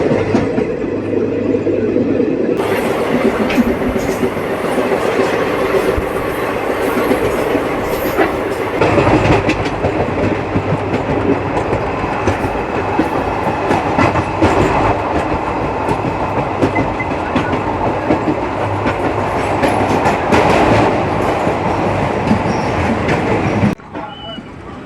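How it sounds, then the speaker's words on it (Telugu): A passenger train travelling from Palakollu toward Chennai rolls steadily on the rails with a loud, continuous rumble and rhythmic clickety-clack wheel beats. The sound stays close and full for about 24 seconds, then cuts off abruptly. "మన ట్రైన్ అయితే లూప్ స్కిప్ చేసిందండి ఎందుపల్లిని"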